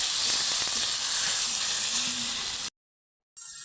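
Ginger-garlic paste and spices fry in oil in a pan for a Bengali chicken bhuna, giving a loud, steady close sizzle that cuts out abruptly and briefly before resuming.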